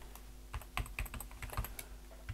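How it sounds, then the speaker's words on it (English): Typing on a computer keyboard produces a quick, irregular run of close, crisp key clicks over a quiet room hum, with no talk. "We'll do that just by typing it in here."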